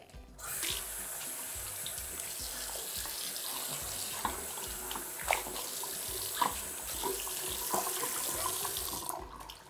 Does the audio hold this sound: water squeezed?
yes